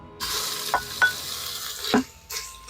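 Hot and mild Italian sausage with ground beef sizzling on the sear setting of an Instant Pot, a steady hiss broken by a few scraping stirs, close and moderately loud with no talking.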